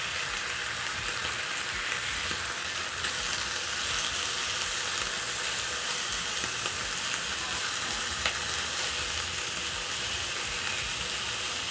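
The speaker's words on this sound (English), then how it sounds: "Then I'm going to wait for my bacon to crispen up a little bit" Bacon strips fry and crisp in a pan, giving a loud, continuous close-up sizzle and spitting hiss with no pauses or voices.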